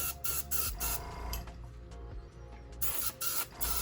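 Aerosol spray paint hisses in short bursts and longer passes over a 1/24 scale NASCAR Chevrolet Lumina model car body, close and fairly quiet, with brief gaps between sprays.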